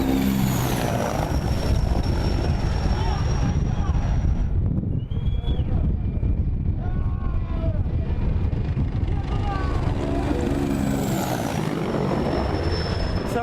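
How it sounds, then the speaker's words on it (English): A Ukrainian military helicopter circling a base: rotor thrum and engine whine fill the air throughout, fading and swelling as it passes, with voices and shouting mixed underneath. "the Ukrainian military helicopter is still doing rounds around the base"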